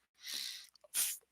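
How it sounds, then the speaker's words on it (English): A single close person's sneeze: a breathy intake and build-up, a few small catches, then a sharp explosive burst that quickly dies away to silence. "My apologies for the slight little hiccup or sneeze in this case."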